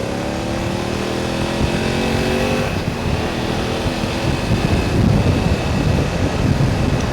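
A BMW F900 GSA motorcycle accelerates up a slip road onto the motorway, its engine droning steadily and rising in pitch through the gears under heavy wind rush, loud and continuous throughout.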